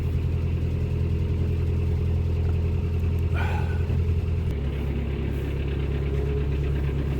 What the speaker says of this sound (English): I like to cruise no higher than 1300, because the engine to me doesn't sound strained.